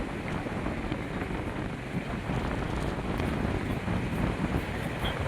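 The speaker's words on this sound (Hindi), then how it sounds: "बहुत तेज हवा चल रही है" Strong wind gusting along the Ganges river in Rishikesh before dawn, a steady loud rush of broadband noise buffeting the microphone, with the flowing water of the river mixed underneath throughout.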